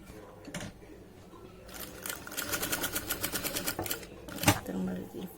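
Jack F4 industrial sewing machine running in short bursts of rapid, even stitching that speed up into a steady mechanical patter. Handling clicks and a thump come between the runs, and a voice talks quietly beside it.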